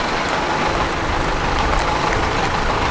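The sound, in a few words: truck engine during a journey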